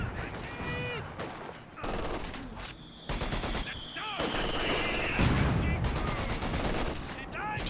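.50 cal machine gun bursts in a strategy video game, rapid firing mixed with other gunfire and explosions, with a voice talking over much of the clip.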